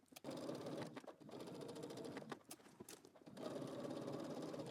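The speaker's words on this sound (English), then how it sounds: "let's head over to the sewing machine, and we're going to stitch in the ditch" A sewing machine stitches in the ditch along a skirt seam, running in close, steady whirring bursts broken by a few brief pauses.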